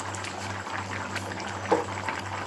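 Mushroom gravy boils in a covered pot after ten minutes on the stove, a soft, steady bubbling and simmer with a low hum underneath, heard close and fairly quiet.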